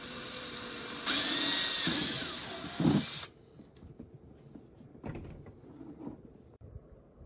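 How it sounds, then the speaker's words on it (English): A power drill fitted with a 3/16 bit boring rivet holes in a portable battery box, a loud high-pitched whirring burst lasting about two seconds, followed by quieter handling clicks and knocks. "I'm going to use a 3/16 drill bit to drill the holes"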